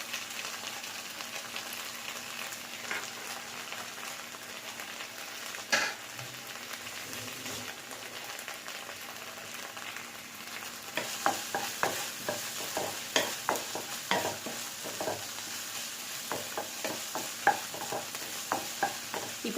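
Fried rice with red chili sauce and spring onion being stir-fried in a pan, with a faint, constant sizzle. Irregular scraping and tossing strokes grow more frequent in the second half.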